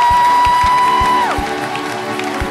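A church congregation applauds and cheers to acclaim Jesus, with loud, rhythmic clapping and crowd noise over a sustained tone.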